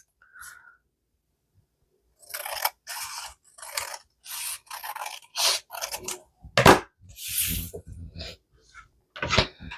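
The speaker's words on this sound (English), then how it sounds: "And now we're just gonna cut this off right here." Scissors snip through paper while making paper flowers, a series of crisp close cuts in short bursts with brief pauses between them.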